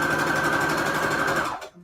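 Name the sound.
sewing machine stitching fabric onto receipt paper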